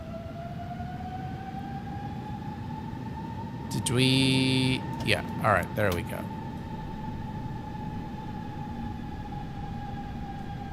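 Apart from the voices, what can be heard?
aircraft engine sounds from the video game X-Plane 12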